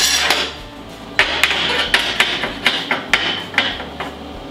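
A metal part of an air conditioner window stand is clamped in a workshop, giving a string of sharp metallic knocks and clanks in an uneven rhythm over a scraping background.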